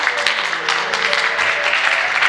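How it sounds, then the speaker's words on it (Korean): Church congregation claps together to welcome a visiting member during a Sunday service, a full and even patter of many hands filling the room without pause. "우리 박수로 환영하도록 하겠습니다"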